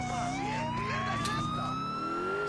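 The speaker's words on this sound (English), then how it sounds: "there's a police car coming towards me" A police car siren in the video game GTA IV wails continuously with rising and falling pitch, loud and steady, with steady engine and traffic noise beneath it.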